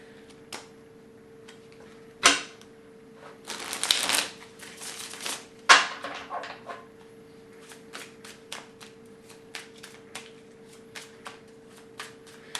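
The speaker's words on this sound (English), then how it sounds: "So we're going to give it a quick shuffle." A French tarot deck is shuffled close by. Several quick riffling bursts are set among sparse, light card taps and clicks in a quiet room.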